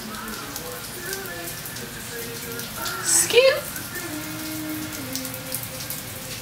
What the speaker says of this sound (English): Raining in Florida yet again?